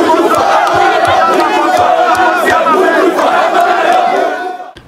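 A large crowd of protesters shouting and chanting in a tense street unrest, a loud dense roar of many voices sustained throughout before cutting off at the end.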